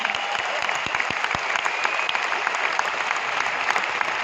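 Loud, dense audience applause at a Vestige awards event fills the whole stretch, many hands clapping steadily without a break and no voices on top.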